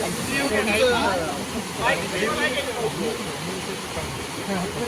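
Floodwater pours steadily across a road in PCMC during heavy rain, a continuous broadband rush that never lets up, with voices talking over it throughout.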